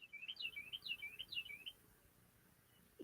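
A bird calls just outside a window: a quick run of bright, repeated chirps, fairly loud and close, that stops halfway through and leaves quiet room tone.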